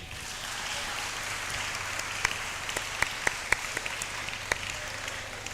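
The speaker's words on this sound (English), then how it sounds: "Keep clapping, keep clapping." An audience at a campaign launch event in Ghana applauds in a steady wash of moderate clapping, with a few sharp, louder claps popping out near the middle and a low hum underneath.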